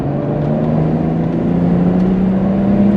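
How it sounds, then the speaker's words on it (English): Inside a turbocharged car, a steady engine drone and a rising whine of the turbos spooling build as it pulls through the gears on a dirt road. The sound is continuous and fairly loud, with no talk. "Yeah, you can hear those turbos."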